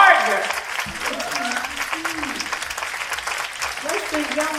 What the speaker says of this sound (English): let's give a round hand clap of applause for Eugene Gardner.